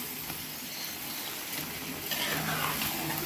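Chicken curry in the Karaikudi style being stirred as it fries in oil, giving a steady close sizzle with soft scraping under it and a slight swell toward the end.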